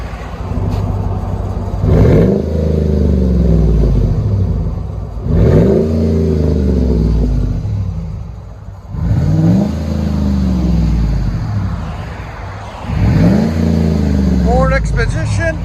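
A 2007 Ford Expedition XLT with a 5.4L Triton V8 and RSC exhaust fitted with a Vibrant bottle resonator revs four times at steady intervals, each loud rising rev falling back to a deep, rumbling idle close by.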